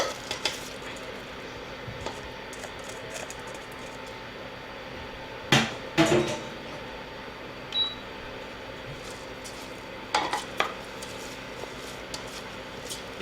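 Rice stirred in a hot pan while it toasts: a low steady sizzle with a few scattered scrapes and knocks of a utensil against the pan, close, without talking.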